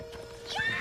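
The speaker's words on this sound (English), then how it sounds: "There's Tilly, what a beautiful horse." A horse gives a short high whinny near the end of a brief moment, faint and slightly distant, preceded by soft background noise.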